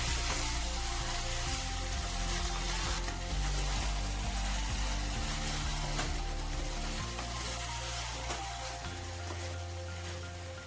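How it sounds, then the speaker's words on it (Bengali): Chicken pieces and quartered potatoes frying together in a pan for a homemade Indian chicken curry, giving a steady, fairly loud crackling sizzle that continues without talk. "চিকেনের সাথে আলুটাকে এভাবে ভেজে নিলে আলু আর আলাদা করে ভাজার প্রয়োজন পড়ে না"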